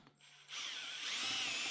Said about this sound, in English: Drill through here, put a bolt in it,